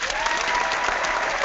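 A studio audience applauds a guest character: dense, steady clapping held at an even level throughout, with no voices standing out.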